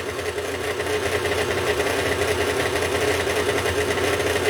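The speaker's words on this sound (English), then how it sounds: "It is working overtime, this KitchenAid." A KitchenAid stand mixer runs continuously while mixing skillet corn bread batter, giving a steady, moderately loud motor hum with a rough, churning texture and no pauses.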